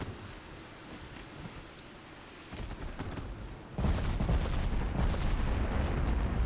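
Naval guns from a warship fire in a video game battle: a deep booming blast arrives about midway, then heavier, louder rumbling and wind-like roar take over, no voices over it.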